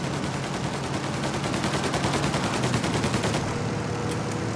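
Sustained rapid gunfire in Mafia Definitive Edition, aimed at the engines of a plane about to take off; dense, loud bursts of shots run continuously without pause, with no voices.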